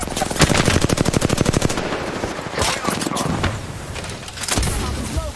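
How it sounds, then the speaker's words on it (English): Rapid machine-gun fire in a video game, loud and close, a fast evenly spaced burst for about two seconds, followed by scattered further shots and impacts. "I'm getting shot!"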